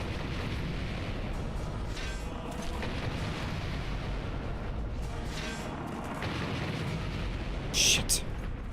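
Cannon fire in Monster Hunter Generations Ultimate, heavy booms bursting out of a dense, constant wash of game noise, with a sharper crack near the end.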